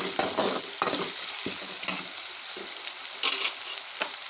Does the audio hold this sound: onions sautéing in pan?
yes